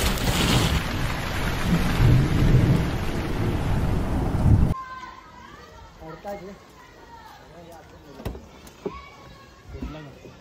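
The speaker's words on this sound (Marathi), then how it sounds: "शेट संदूक बंद करू का पाऊस पडतोय बघा" Rain with thunder pours down hard in a dense roar for several seconds, then cuts away to quieter sound with voices talking and scattered clatter.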